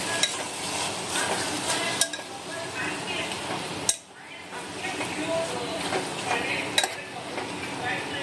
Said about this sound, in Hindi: आतां एड करता हे मटन मॅरिनेटेड मटन एड करता ओके आनी ताका मिक्स करून घेया